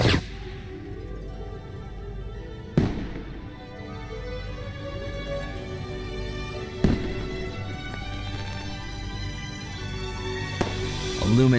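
Fireworks go off in the video game Foolish Mortals: several sharp booming bursts, spaced seconds apart, over a sustained musical backdrop.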